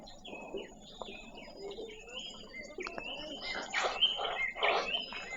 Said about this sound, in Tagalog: Mga ibon, no? Naguhunihan sila.